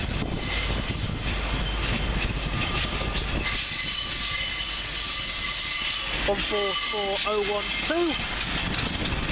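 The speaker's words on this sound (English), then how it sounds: "on the heavily delayed slightly delayed 1504 Northern Rail service from Scunthorpe to Lincoln Central." Class 142 Pacer unit 142018, a Northern Rail service from Scunthorpe to Lincoln Central, passing at a station with loud rumbling wheels, rhythmic clatter and a burst of high squealing near the end.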